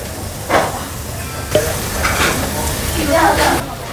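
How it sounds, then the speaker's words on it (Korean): Food, a rice dish mixed with pickled radish, stirs and scrapes in a hot pan with a steady sizzle, punctuated by a few sharp clinks of a utensil, near and fairly loud. "이렇게 섞는 거예요. 섞어서 드시는 거예요."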